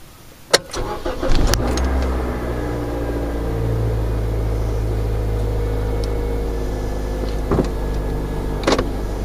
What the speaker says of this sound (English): Let's get the car started.